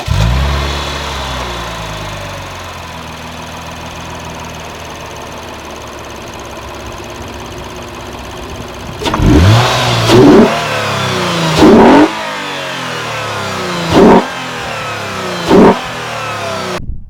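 A car engine in a clean engine bay idles steadily for about nine seconds, then is revved in five short sharp bursts close up, each dropping back to idle between blips.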